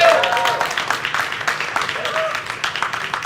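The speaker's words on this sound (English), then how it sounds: "So we want to give a huge round of applause again to our partners at Orange" Audience applause fills a Xiaomi presentation hall, a dense, steady patter of clapping that carries on for several seconds, with a voice over a loudspeaker talking through it.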